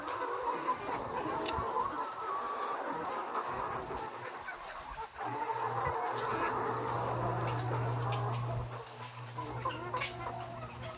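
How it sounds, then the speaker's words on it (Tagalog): Old layer hens clucking and murmuring in a poultry house under a ceiling fan, a dense flock chorus with a steady whir and hum of the fan, including a louder stretch of low drone midway. "So this is the old chickens."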